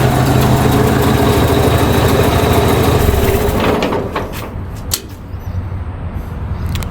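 A 1956 Ford 850 tractor engine with dirt and leaves in its cylinders runs at a steady, loud idle close by, then drops quieter after a few seconds, leaving a lower rumble with a few sharp clicks.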